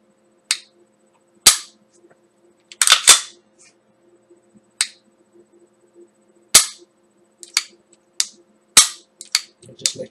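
A Grand Power pistol and a Beretta pistol fire shots at a range. Sharp, loud reports come alone at irregular intervals over ten seconds, some in quick pairs, with quiet gaps between them.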